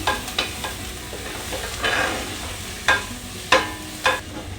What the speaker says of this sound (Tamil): We will fry it. We will saute it until it turns brown.